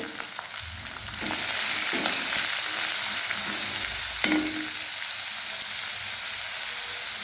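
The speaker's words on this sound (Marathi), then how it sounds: "कांद्याला पण छान परतून घ्यायचं आहे 1-2 मिनिटं।" Onion and green chilli fry in hot oil for a spicy rice-papad bhaji. A steady, loud sizzle swells after the first second, broken by occasional spatula scrapes and stirs, with no talking.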